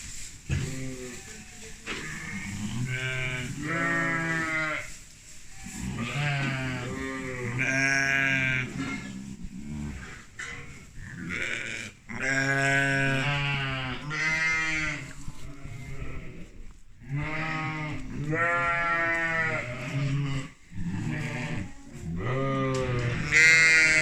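East Friesian sheep, a breed rare in Turkey, bleat repeatedly in a barn or tent, overlapping loud, close calls of varied pitch and length from several animals, with no talking.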